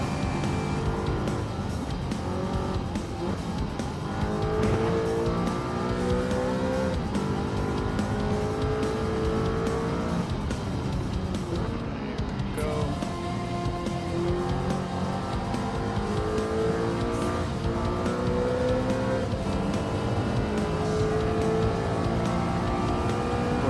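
Race cars lap in a racing video game, with continuous engine whine rising and falling through gear shifts, steady and loud with occasional tire noise, no talk.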